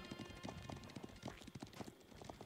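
Horse archers gallop in Age of Empires, a rapid, continuous clatter of hooves that stays dense and steady throughout the short stretch, with no voices.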